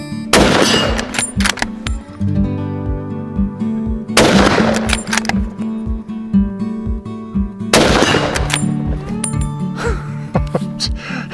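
A stainless Weatherby Vanguard .300 Win Mag rifle fires three loud, sharp shots about four seconds apart, each followed by the lingering metallic ring of a swinging steel gong target.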